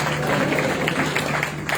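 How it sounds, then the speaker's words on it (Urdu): A church congregation applauds at a live worship meeting, dense continuous clapping filling the hall at close range throughout, with a steady low hum beneath. "زوردار تالیاں ہو جائیں"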